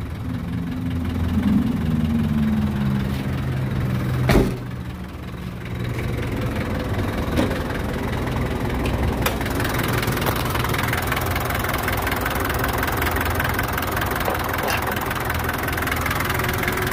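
A 1989 Daihatsu Taft GT 4x4 engine idles steadily nearby, a low, even rumble with a sharp knock partway through and no speech.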